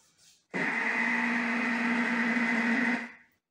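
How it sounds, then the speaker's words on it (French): A Thermomix kneads fougasse dough: its motor starts abruptly, holds a steady whirring hum for about two and a half seconds, then winds down, with no speech. "Donc jusqu'à la fin, on laisse pétrir."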